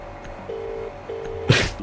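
Two steady telephone keypad dialing tones beep in succession as a phone number is dialed, clear and close, followed by an abrupt noisy burst and a faint tone at the end.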